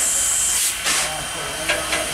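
Steam hisses in short bursts over a steady rumble, a few sharp puffs standing out as a steam train departs from a station track at Strasburg Rail Road.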